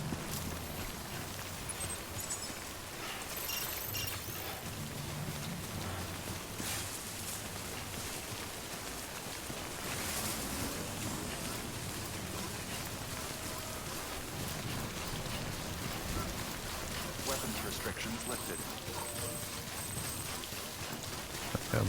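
Steady rain pours down in the video game Death Stranding, a dense continuous hiss of drops on surfaces lasting throughout, loud and unbroken with no talk over it.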